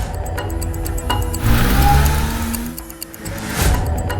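A black car starts off and drives away, its engine revving up in a rising surge, easing, then pulling again, loud and close with no talk over it.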